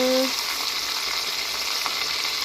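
Breaded chicken wings fry in a covered pan of hot oil, a steady loud sizzle with crackling pops that runs the whole time, with no one speaking.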